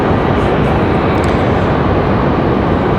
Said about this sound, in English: We've got Southwest about to touch down the other side